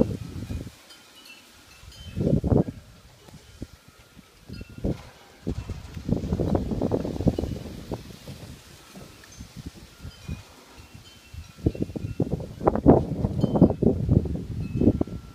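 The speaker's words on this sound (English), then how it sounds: "I can hear it just roaring across the canyon. It sounds like a jet taking off." Santa Ana wind storm roaring through shaking trees in a canyon, rising in surging gusts of broad rushing noise with quieter lulls between, no talk heard.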